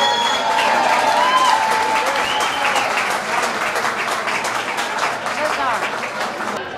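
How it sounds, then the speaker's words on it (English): Loud sustained applause from a large crowd at a United States Marine Corps 240th birthday celebration, dense clapping mixed with cheering and crowd voices, slowly tapering near the end. "Let's give a huge round of applause one more time for all the Marines here tonight"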